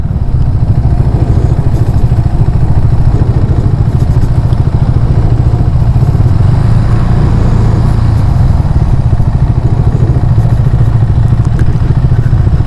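A 2021 KTM 390 Duke being ridden, its engine a loud, steady, close drone with constant rumble and wind roar throughout, no voices over it.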